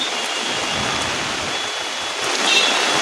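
A downpour outside Churchgate station in Mumbai hisses continuously and close, swelling slightly louder near the end, with no talking.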